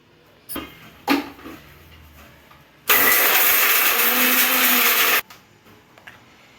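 A mixer grinder whirs loudly for about two seconds while grinding chutney, stopping abruptly, with a few lid clunks and knocks before and after.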